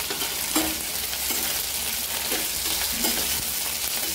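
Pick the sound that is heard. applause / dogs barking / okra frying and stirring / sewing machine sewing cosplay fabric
okra frying and stirring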